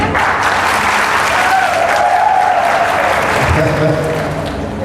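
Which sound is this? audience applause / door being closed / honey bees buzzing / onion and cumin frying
audience applause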